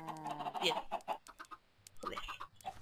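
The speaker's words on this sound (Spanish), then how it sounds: "Y vamos a recoger a las gallinas estas." Chickens in a survival video game cluck and squawk in quick, irregular bursts, close and fairly loud, with some overlapping calls and a brief low tone near the end.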